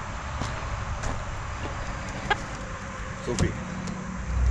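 Chickens cluck softly in short, scattered calls over a low background hum, with a faint rumble building at the end.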